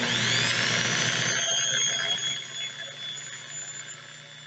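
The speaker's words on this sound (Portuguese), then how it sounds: "Como a serra está sem carga, ela foi acelerando um pouquinho" An unloaded reciprocating saw whines at high pitch with a rising tonal sweep as it speeds up, then its buzz fades and thins toward the end.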